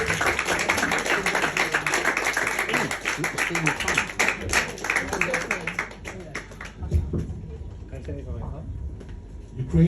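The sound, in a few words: audience applause for comedian Jędryk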